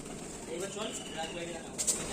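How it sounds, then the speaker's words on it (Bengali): Pigeons coo softly at an old Shiva temple about 322 years old, a few low murmuring calls in the middle of the clip over quiet outdoor ambience. "দেখতে পাচ্ছ এখানে পায়রা টায়রাগুলো আছে"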